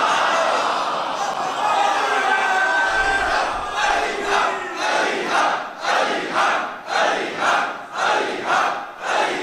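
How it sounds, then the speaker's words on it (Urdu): A large crowd at a religious gathering chants slogans in unison, with loud rhythmic pulses of many voices and a leading voice among them, close and full. "مجھے یہ چند نعرے بہت پسند ہیں"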